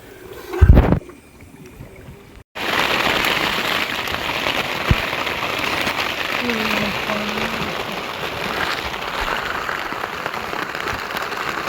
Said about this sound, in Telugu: ఈ టైంలో వర్షం వచ్చింది ర్యాంప్ అనమాట మామూలు కాదు ఫుల్గా పడుతూనే ఉంది